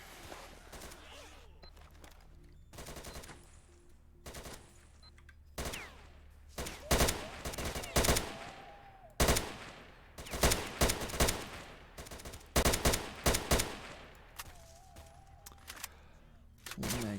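Gunfire from S.T.A.L.K.E.R.: Shadow of Chernobyl, a run of sharp shots fired in short bursts and single cracks until a magazine is emptied, loud and close, with quieter background game sounds between volleys.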